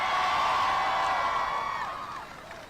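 A crowd at a political rally in Pittsburgh cheering and whooping in a sustained, loud roar that fades slightly toward the end.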